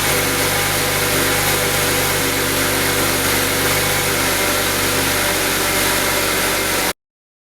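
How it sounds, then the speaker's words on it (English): A BMW E92 engine idles with the front wheels off the ground while the steering is turned left and right. The drone is loud and steady and then cuts off abruptly near the end. "I think it's time we turn the car on and with the wheels in the air, steer the car left and right."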